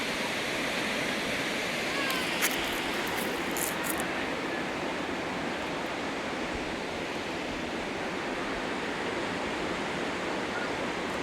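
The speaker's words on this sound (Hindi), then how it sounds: "कितना तेज बह रहा है पानी।" The fast-flowing upper Manas River below the Himalayas gives a steady, dense roar of rushing water, unbroken and close, with a few faint clicks early on.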